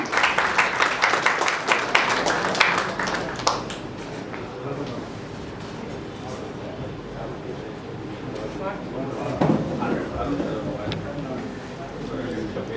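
At a Tamil film crew's press meet, an audience gives a short burst of brisk clapping for a few seconds, after which the claps stop and someone talks.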